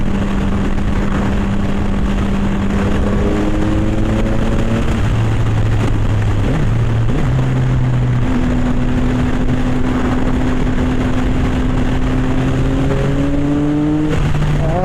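A 675SR-R motorcycle engine idles steadily for the whole stretch, a loud continuous drone with a breathy intake rush and small shifts in pitch.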